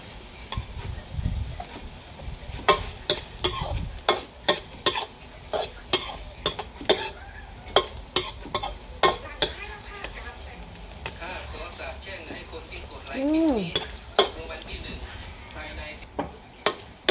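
Chicken larb stir-fried with fermented fish sauce in a pan, the spatula scraping and clacking against the metal in irregular strokes under a soft sizzle, while someone talks over it.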